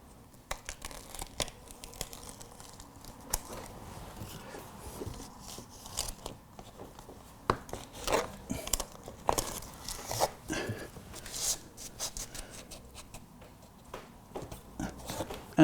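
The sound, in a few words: peeling backing tape off insulation tape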